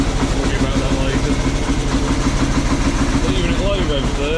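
A steady, low Norton Model 50 motorcycle engine idle rumbles continuously at close range, with a faint mechanical whine rising near the end.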